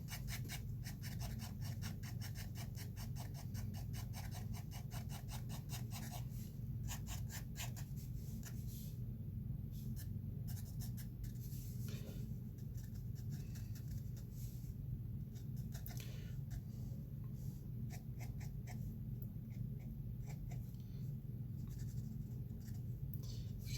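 Fountain pen nib scratching across textured paper while drawing a self-portrait, a soft continuous rasp with brief strokes and pauses, close and quiet with no talk.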